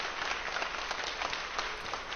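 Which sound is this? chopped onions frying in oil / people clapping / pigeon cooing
people clapping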